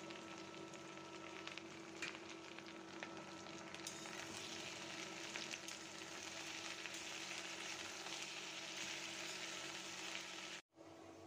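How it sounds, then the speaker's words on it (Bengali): Chopped okra with green chillies and salt fries in a kadai, a steady close sizzle that holds evenly for several seconds before a brief break near the end. "ঢেঁড়স ভাজি হয়ে গিয়েছে"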